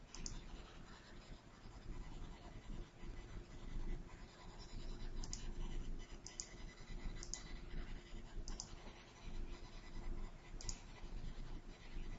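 Marker or eraser rubbing across a whiteboard during a primary maths lesson, a steady scratchy scrubbing that runs for several seconds with a few sharper squeaks and taps along the way.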